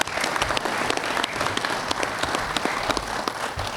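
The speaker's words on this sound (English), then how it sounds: "Oh, I'll clap for that." Sustained audience applause from a crowd at a veterans' department convention, dense steady clapping filling the space for several seconds, fairly close and even in loudness with no voices on top.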